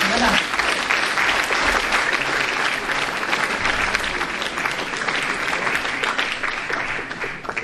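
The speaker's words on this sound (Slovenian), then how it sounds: "Še njemu lahko zaploskate enkrat." An audience at an awards ceremony breaks into sustained applause, loud dense clapping that fills the room without pause and eases slightly toward the end.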